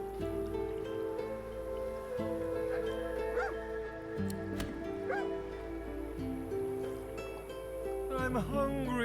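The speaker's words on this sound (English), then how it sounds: "The old dog whimpers." An old dog in the fantasy role-playing video game Divinity: Original Sin 2 whimpers and gives a few soft yips over a constant low game ambience, the cries brief and moderately close.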